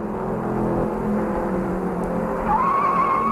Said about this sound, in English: The car slides in turn 1.